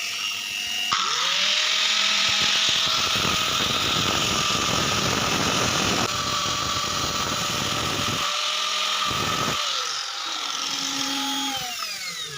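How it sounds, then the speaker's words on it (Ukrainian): Electric motor on 220 V with a speed controller spinning a shaft while an angle grinder turns it down: a loud continuous high grinding whine over a motor hum, changing in pitch and dropping briefly near the end. "Під'єднав мотор до 220 вольт і через регулятор обертів ми його запускаємо."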